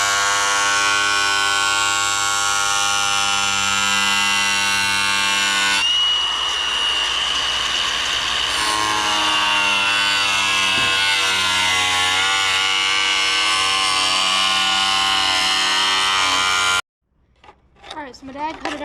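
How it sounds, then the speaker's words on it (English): An angle grinder cutting a metal bar clamped in a bench vise, a loud sustained high whine with a shifting tone as the disc bites, stopping abruptly near the end before a voice starts. "we're gonna head over to the bench vise with the grinder"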